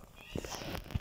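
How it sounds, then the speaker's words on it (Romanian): A pet cat lets out a brief, soft meow indoors, faint against low background noise. "Dacă auziți miau. Este pisica mea."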